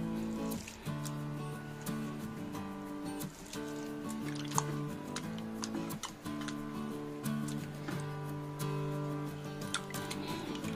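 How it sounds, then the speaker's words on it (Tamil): Grated potatoes are rinsed and squeezed in a bowl of water, giving repeated wet squishes, drips and trickles in uneven bursts over a steady tonal background hum. "இதை வந்து நம்ம தண்ணிக்குள்ளே போட்டு அலசி எடுத்துடலாம்."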